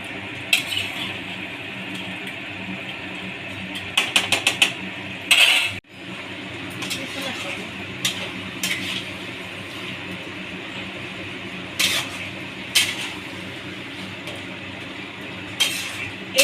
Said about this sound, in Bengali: এবার আমি এটাকে যতক্ষণ না জলটা পুরোপুরি টেনে যাবে ততক্ষণ এটাকে নাড়তে হবে